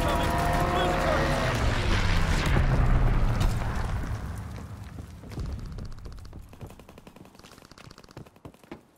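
Mortar rounds explode in a World War II-style shooter game, with deep booming blasts and rumble early on, then sharp staccato gunfire and smaller bursts as the battle noise fades, under voices calling out.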